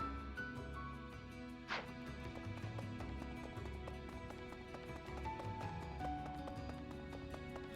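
A horse clip-clops steadily in Fire Emblem: Three Houses, its hoofbeats running under layered background music.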